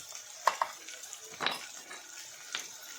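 Homemade masala, red chili powder, turmeric and salt are stirred in a cooking pot, making a few sparse metallic clinks and soft scrapes against a quiet background.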